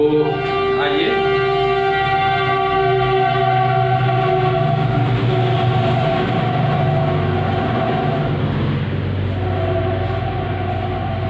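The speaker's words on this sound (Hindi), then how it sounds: "ये ट्रेन का डिस्टरबेंस तो इसी में जारी रहेगा।" Train noise during a lesson indoors: a steady, loud rail rumble with long sustained horn-like tones that hold across the whole stretch, fairly close and without a clear pass-by peak.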